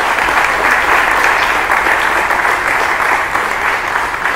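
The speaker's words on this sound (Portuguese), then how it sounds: "Gostaria que vocês dessem uma salva de palmas para esse pessoal." A church audience claps together for young helpers at an Adventist service, dense sustained applause that stays loud and even throughout with no voices over it.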